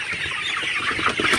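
Sonali chickens on a farm cluck in a close, busy chorus of short overlapping calls, suffering in oppressive humid heat.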